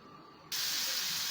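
Ghee and oil heating in a pan sets off a sudden, steady broadband hiss that starts partway through and holds loud and even to the end, with no voices.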